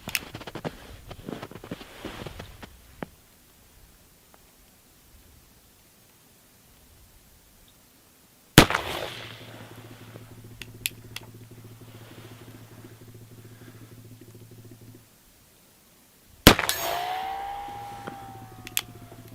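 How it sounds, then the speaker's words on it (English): An 1860 Colt cap and ball revolver fires two loud, sharp shots outdoors at steel targets 25 to 30 yards off, each followed by a ringing decay and a steady hum, with earlier faint handling noises. "let's shoot some of them 25-30 yard steel and see how it does"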